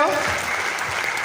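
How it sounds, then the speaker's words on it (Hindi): Audience applause for an invited guest, a former army officer, at an event in Bhilwara, Rajasthan: a short, steady wash of clapping that fills the room from start to finish. "एक बार सर के लिए जोरदार तालियां होनी चाहिए"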